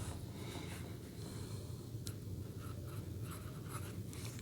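An ebonite fountain pen fitted with a local Jinhao nib scratches steadily across paper, a soft continuous writing sound with a low background hum and no voices.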